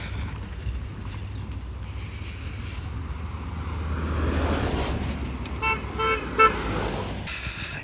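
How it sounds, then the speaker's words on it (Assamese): A bus on a rural road approaches and passes amid traffic noise, its engine rumble swelling mid-way, with a few short horn toots near the end. "এখন বাছ আহিছে।"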